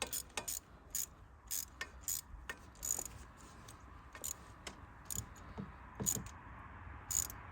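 Ratchet wrench clicking in reverse while working on the 2.1L exhaust manifold of a Mercedes Sprinter, a series of short, crisp click bursts repeating irregularly, fairly close and alone.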